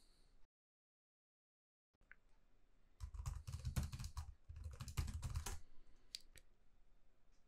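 Fingers tap out a command on a computer keyboard, a brief silence followed by a quick close burst of clicking keystrokes, then a pause, another flurry and a couple of final taps.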